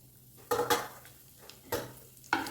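Chana dal, urad dal, mustard seeds and cumin fry in hot oil on a low flame, with a quiet sizzle under a few sharp metal clinks and scrapes of a stirring spoon against the pan.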